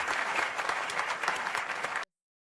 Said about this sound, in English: And the room erupted in applause.